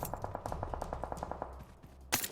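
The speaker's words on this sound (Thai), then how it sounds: "มีเสียงปืนอยู่ด้านหลังเรานะครับเขายิงมาแล้วโดนด้วย" Automatic gunfire in the PUBG Mobile video game: a rapid, evenly spaced burst of about a dozen shots, then a short lull and one louder sharp report near the end.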